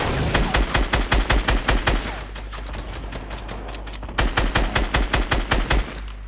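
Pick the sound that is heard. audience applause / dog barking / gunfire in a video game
gunfire in a video game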